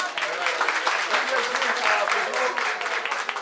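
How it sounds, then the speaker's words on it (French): Audience applauding a speaker at a digital drinks event in Tunis, a steady wash of clapping from a crowd in a room, with voices mixed in underneath. "On applaudit très fort Madame Olfa."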